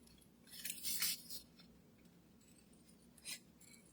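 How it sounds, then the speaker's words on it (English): Scissors snipping paper around a printed photo for a memory ornament, a few quiet close crisp cuts in short clusters with pauses between. "I'm just going around it with the scissors,"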